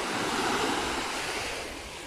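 Sea waves washing onto a beach in the United Arab Emirates, a steady broadband rush of surf with some wind, close and continuous, no voices.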